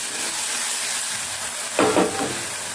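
Chopped tomatoes fry in oil for egg masala, a soft continuous sizzle and hiss close by, with a short louder burst of spattering near the end.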